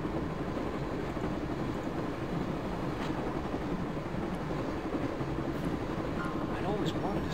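A train ride in the video game Broken Sword: a continuous, dense rumble of rolling wheels and carriage noise at a steady level, with muffled voices beneath it.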